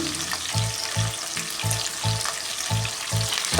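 Shallots and curry leaves sauté in hot oil, frying loudly and steadily, while a spatula stirs in a regular rhythm of dull scrapes, with no one speaking.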